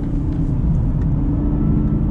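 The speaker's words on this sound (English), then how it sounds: "love the sound of that LT4" Chevy Camaro ZL1 1LE with its LT4 V8 engine, heard from inside as a loud, steady low rumble and drone while the car is driven hard through corners, with no talking.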